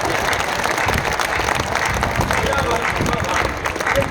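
An audience at a Hindi comedy show breaks into continuous applause, dense clapping holding steady throughout with a few voices mixed into the crowd noise.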